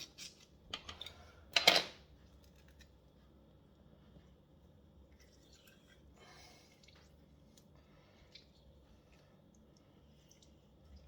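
Lemon juice squeezed through fingers for elderberry jam, a couple of brief wet squishing drips near the start, then quiet with faint small kitchen sounds.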